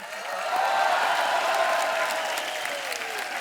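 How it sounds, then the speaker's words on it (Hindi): A studio audience at a television comedy talk show breaks into applause, a broad wash of many hands clapping that swells in the first second, then holds steady and slightly fades, with no speech on top. "लोग तालियां बजा रहे हैं"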